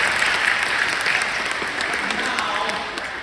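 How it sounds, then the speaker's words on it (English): Steady audience applause fills the whole stretch, a dense wash of many hands clapping at close range without a break and fading slightly at the end. "Give him a round of applause."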